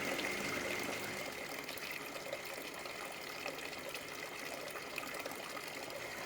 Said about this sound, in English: we also decided to place it right near the porch so that you'd have the sound of water while you're sitting on the porch